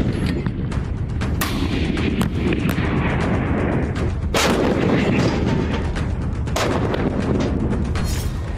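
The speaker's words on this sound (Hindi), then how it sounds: "मिसाइल लॉन्चर से ताबड़तोड़ रॉकेट दाग रहे हैं, बारूदी जखीरे में मौजूद आर्टिलरी से बम गोला बारूद बरसाया जा रहा है" Artillery guns and rocket launchers fire during a military war drill, producing a dense, continuous barrage of loud booms and sharp blasts that overlap one another with no pauses between them.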